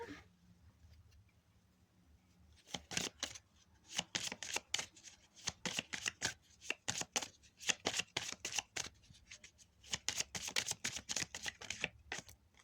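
Tarot cards are shuffled close by in repeated quick riffling bursts with brief pauses between them, crisp and quiet, with no talk.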